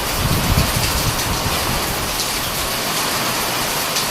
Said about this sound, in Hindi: हाँ बहुत ही तेज बारिश हो रही है